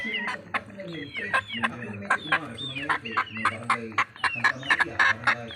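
Chickens clucking and squawking close by, a busy run of short calls, with a person's voice murmuring among them.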